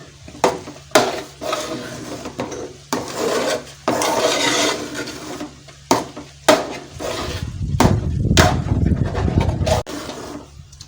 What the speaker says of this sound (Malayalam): ഇനി ഇത് നല്ലപോലെ ഇളക്കി കൊടുക്കാം.